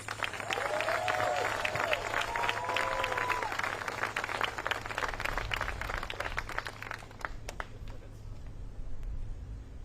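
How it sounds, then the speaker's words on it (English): A crowd applauds steadily, dense clapping that holds for several seconds then tapers slightly, with a few whistles or calls rising over it early on. "All right, everybody, please give a round of applause for Pete Dietz."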